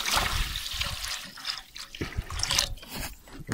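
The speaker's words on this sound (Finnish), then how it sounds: "Laitetaan sinne ihan kylmästi vaan vettä." Cold tap water runs and splashes into a pan holding moose roast juices, a loud, continuous pour with gurgling and fluctuating flow over several seconds.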